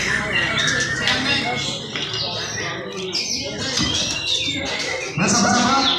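White-rumped shama (murai batu) songbirds call at a bird-singing competition, with dense, loud, continuous chirps and squawks layered over a busy crowd background.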